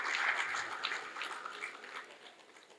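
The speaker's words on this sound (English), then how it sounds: "One more time, a round of applause for the President of the Gambia Press Union." Applause from an audience at a Gambia Press Union national journalism awards ceremony, a steady wash of clapping that fades gradually over a few seconds, with no voices over it.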